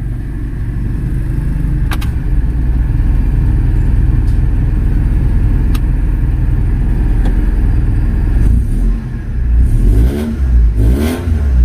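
A Honda Genio scooter engine with a sharp, tinny exhaust runs steadily and loudly close by, then gets a few quick throttle blips and revs near the end, with no talking.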